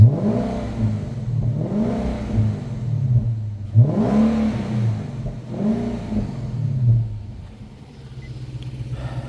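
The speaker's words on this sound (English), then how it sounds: "Rev this a little bit for you guys." The engine of a 2009 Infiniti FX50S SUV is revved by hand about four times, each throaty swell rising and falling back toward idle, heard loud and close.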